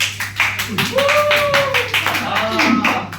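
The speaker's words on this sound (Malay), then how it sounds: "Tepuk tangan sikit." Classroom children clapping their hands together in quick, fairly steady bursts under a teacher's voice, close and bright, lasting only a few seconds.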